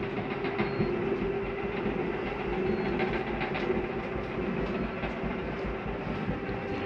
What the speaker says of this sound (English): That noise is the slide mechanism telling itself,